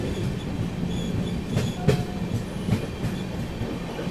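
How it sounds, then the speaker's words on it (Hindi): The Samta Express, running from Hazrat Nizamuddin to Visakhapatnam, passes on the railway with a steady, loud rumble and rhythmic clickety-clack of wheels over joints, joined by a few sharp clanks and squeaks. "आप लोगों की हज़रत निज़ामुद्दीन से चलकर विशाखापट्टनम की ओर जाने वाली समता एक्सप्रेस आ रही है इसे ओवरटेक करने"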